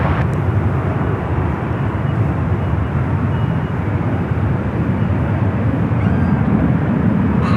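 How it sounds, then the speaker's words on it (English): Boeing 777 airliner at San Francisco airport, a steady broad jet engine roar heard from a distance, constant and loud for several seconds with no voices. "Oh, that's a 777?"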